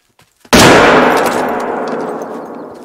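A single loud rifle gunshot in the hunting video game theHunter: Call of the Wild, set in Alaska's Yukon Valley, a sharp crack followed by a long, slowly fading echo, heard alone after a near-silent moment.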